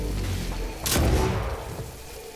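Single loud gunshot from the video game DOOM Snapmap, a sharp booming blast landing in the middle of low rumbling background, then a short fading tail.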